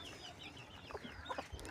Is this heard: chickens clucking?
yes